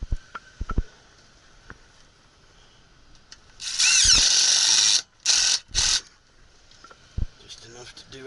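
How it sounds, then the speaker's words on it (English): A power drill drives screws into return ductwork, with about three loud whirring bursts, one long and two short, near the middle. Light knocks and handling noises sit around them. "get some screws in there to hold it up."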